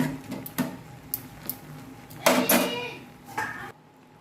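A spoon stirs boiling taro stems in a cooking pot, giving a few irregular light metallic clinks and scrapes with a brief louder clatter midway, close and fairly quiet.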